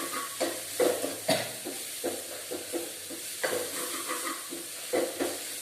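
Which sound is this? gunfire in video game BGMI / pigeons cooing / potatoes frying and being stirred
potatoes frying and being stirred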